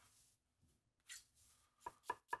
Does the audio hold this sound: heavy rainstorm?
no